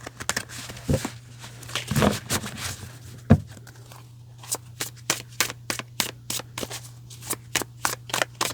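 Tarot cards being shuffled by hand, close and fairly quiet, with a few soft riffles early and then a quick run of crisp, evenly spaced card snaps, no talking.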